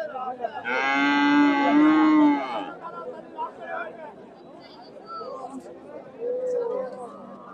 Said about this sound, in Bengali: ফ্রিজিয়ান জাতের ষাঁড়।